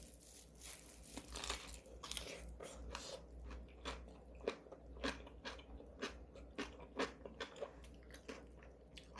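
Crunchy Korean cucumber kimchi (oi sobagi) bitten and chewed close up, giving a series of crisp, snappy crunches at a steady rhythm with no talking.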